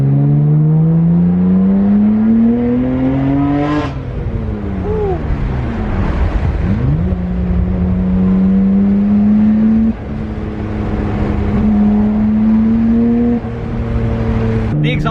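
A Nissan R32 GTR with a Blitz twin blow-off valve mounted under the bumper is revved hard several times. Loud engine and exhaust climb and fall, with short releases vented on each lift-off, close and steady throughout.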